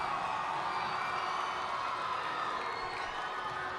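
A basketball championship crowd in an indoor gym makes a steady, distant roar of cheering and chatter, a continuous wash of voices without distinct peaks.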